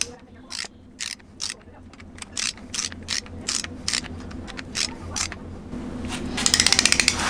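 A torque wrench ratchets down camshaft bolts to 105 inch-pounds on a Neon SRT-4 engine, with a series of close, sharp ratcheting clicks at an irregular pace that speed into a rapid click burst near the end.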